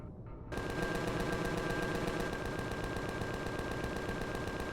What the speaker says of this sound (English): See if I can cut this tree down with a Gatling gun